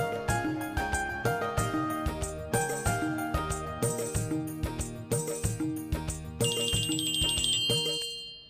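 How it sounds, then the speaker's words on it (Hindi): A phone ringtone plays a bright, repeating melodic tune, loud and close, cycling through several phrases before a higher chiming passage at the end, with no talk over it. "परी, एक सेकंड, मेरे हस्बैंड नरेंद्र सर उनका फोन है।"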